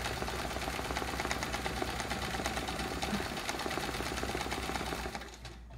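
A sewing machine free-motion quilts a Charming Chevrons quilt, chattering in a rapid, even stitching rhythm at close range for several seconds before slowing to a stop.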